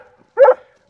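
An Airedale Terrier gives a single short, close bark-like yelp in the middle, with quiet background before and a faint sound creeping in at the end.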